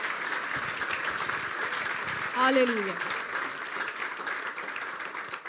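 A church congregation claps together in a sustained round of applause during a sermon while a voice briefly calls out over it in Hindi.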